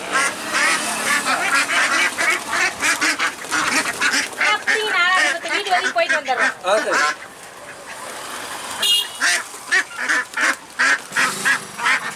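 Ducks quack loudly and repeatedly at a Salem-style duck curry stall, dense overlapping calls from a nearby flock with people talking among them.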